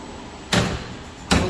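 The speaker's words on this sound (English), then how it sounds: "close the door." The door of a tensile testing machine closing gives two sharp, close impacts under a second apart, likely the door swinging shut and latching, over a steady background hum with no speech.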